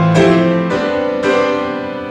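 The Wicked Witch musical motif from the musical Wicked rings out loud and alone as three sustained, bright chords, each struck and left to ring before the next.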